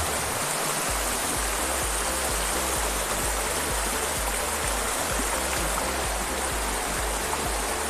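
Steady, full-bodied rush of river water flowing through a natural stream habitat, continuous broadband roar with a low rhythmic churning underneath, close and fairly loud, no voices.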